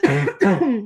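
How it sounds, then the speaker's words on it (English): A person with a lingering cough lets out two close, voiced coughs in a row, each with a raspy, throaty tail. "got this lingering cough that won't go away"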